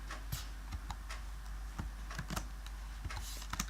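Light typing on a computer keyboard during C++ programming in Xcode, scattered soft key clicks in uneven bursts over a low steady hum, close and quiet.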